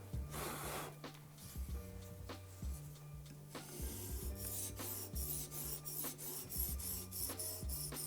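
A knife blade scraped repeatedly along a sharpening stone while reprofiling the secondary bevel, with steady rhythmic rasping strokes, close and fairly loud, and a low repeating tonal pattern running beneath.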